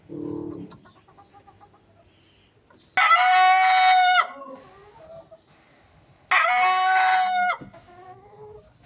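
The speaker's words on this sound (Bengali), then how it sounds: "আজকে প্রথম মুরগিগুলো ডিম দিয়েছে।" Domestic hens on a farm cluck and cackle in two loud, sustained bursts, with softer clucking between them and no talk.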